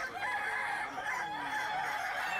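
A Kukuak Balenggek rooster, a fowl endemic to West Sumatra, crows at a crowing contest in Padang, giving a long sustained multi-note call loud over a busy crowd background.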